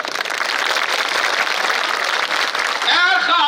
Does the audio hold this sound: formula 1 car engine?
no